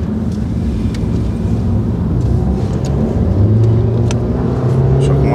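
An Alfa Romeo Giulia with a 2.0 turbo engine drives along, heard from inside as a steady low engine and road rumble with a rising note near the end.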